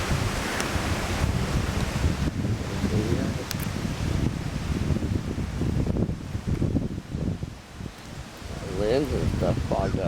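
Roaring hurricane wind at Holden Beach RV Park during Hurricane Matthew, a loud continuous rush with gusts and surf-like swells that dips briefly, and someone speaks near the end.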